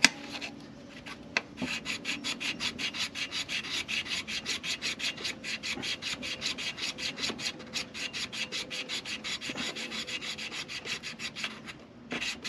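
A part is rubbed flat by hand to strip its coating, making fast, even back-and-forth scraping strokes. Each stroke is distinct and close, and the rhythm holds steady for about twelve seconds with no voices.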